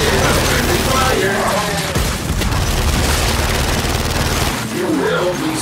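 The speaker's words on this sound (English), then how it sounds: "Enemy fire!" Enemy gunfire in Gears 5 rattles in loud, dense bursts of shots and booms across a chaotic battle, with shouting voices over the top.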